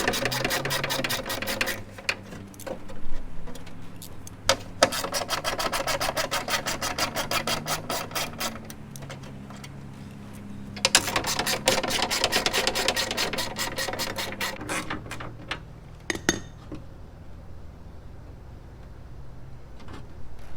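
A hand ratchet clicks in rapid bursts while a window mount is removed, the dense ticking coming close and fairly quiet, with short pauses between runs.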